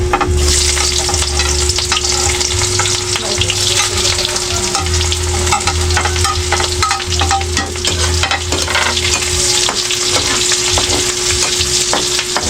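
Steady, loud sizzling and crackling of fish frying in hot oil, continuous throughout with a constant low hum underneath.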